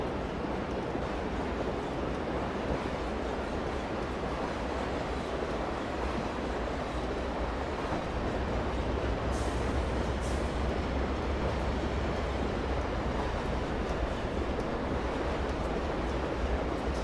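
A long train rumbles past with dense, steady noise, the heavy drone of locomotives carrying on without a break.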